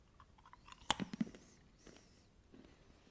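Close, quiet crunching and chewing of a crunchy, chili-coated spicy snack, a few sharp bites followed by softer chewing, with no talking.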